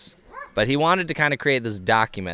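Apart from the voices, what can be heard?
dog barking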